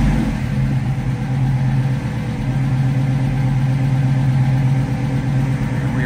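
A 1967 Chevrolet Camaro engine idles at about 1,000 RPM while warming up, a loud, steady close-up rumble with an even low throb that holds throughout.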